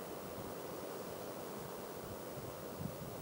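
The Suomujoki river flows steadily along a hiking trail, with a light breeze blowing, making a constant, soft broadband rush with no breaks and no voices.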